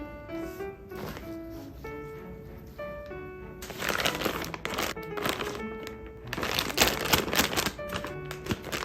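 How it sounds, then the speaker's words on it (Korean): A plastic zipper bag packed with sliced green onions is pressed flat to push the air out, giving intermittent crinkling bursts over a steady musical background. "이렇게 해서 공기를 쫙 빼주시고 지퍼백을 쫙 눌러주세요."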